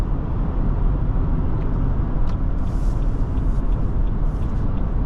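Engine of a 2023 Nissan Armada Platinum accelerating, a steady, loud low rumble with road and wind noise heard from inside the truck, no talk.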